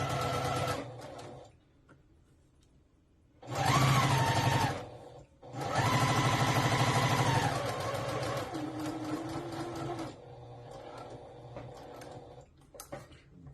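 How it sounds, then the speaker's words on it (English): Sewing machine stitching a quarter-inch seam on gathered fabric, running in loud bursts of rapid even stitching with short pauses between, then a softer steady stretch of stitching toward the end. "you will just start stitching at 1/4"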